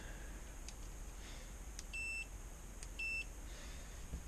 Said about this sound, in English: We're going to check continuity.